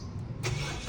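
A car that has stood parked at home for two days cranks and catches, its engine turning over in a short, close, loud burst.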